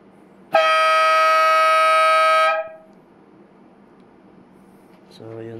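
A loud, sustained scoreboard air horn blast, sounding automatically as the clock hits zero, lasting about two seconds, rich and buzzy, then cutting off into quiet room tone.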